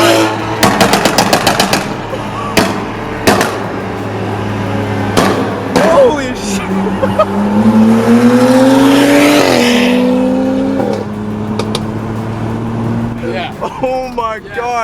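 BMW F32 435i with an E85 flame tune and loud exhaust in a tunnel, sharp rapid crackling pops followed by a reverberant rising engine roar and deceleration, with excited voices over it.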